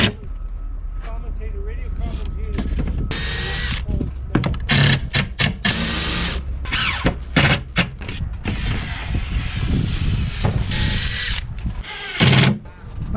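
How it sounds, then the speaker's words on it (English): A screw gun drives screws into a wooden box during a wooden boat restoration, giving several short whirring bursts between pauses, with knocks and handling noise and a voice talking over parts of it. "let's just start putting a few screws in here. And yes, I'm going to be using a screw gun shortly"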